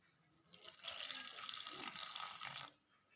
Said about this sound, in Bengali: এবারে জল দিয়ে আমি মাখবো